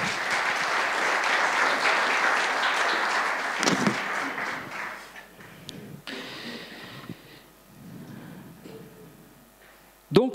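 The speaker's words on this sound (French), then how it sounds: "On peut les applaudir." Audience applause rises as a dense wash of clapping for several seconds, then thins out into scattered claps as a voice begins talking over the fading sound.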